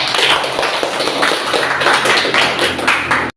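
Classroom of students clapping their hands together in a steady, fast, close rhythm for about three seconds, then stopping abruptly.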